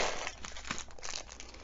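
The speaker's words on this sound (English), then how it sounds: "Some plastic bags to put other stuff in." Plastic bags crinkling and rustling in hand while the Roll Player board game is unboxed, a steady close crackle with no speech.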